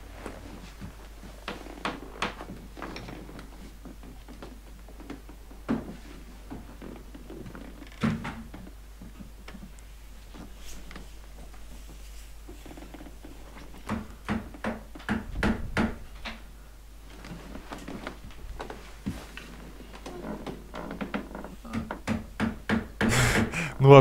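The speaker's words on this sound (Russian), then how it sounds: "это он делает обувь своим молотком" In the Xbox 360 game Lost Odyssey, a man making shoes strikes with his hammer in irregular knocks and taps against a quiet background, growing busier and louder toward the end.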